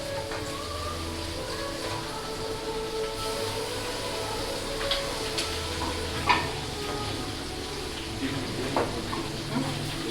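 Jumbo catfish sizzling steadily as it grills at a street food stall, a dense continuous crackle with a few sharper pops and clatters, close and even throughout.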